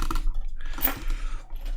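Computer keyboard being shifted across a desk, a short cluster of soft clacks and a brief sliding scrape, close and without speech.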